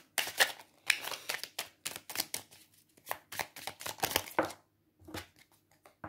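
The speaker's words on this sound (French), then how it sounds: "je vais quand même mélanger les cartes" Oracle cards being shuffled by hand, a quick series of soft papery riffles and slaps close by, in irregular bursts with a short pause near the end.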